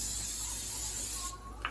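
Cooking spray hisses onto a pancake griddle in one steady, close burst lasting over a second before cutting off, with faint kitchen sounds after.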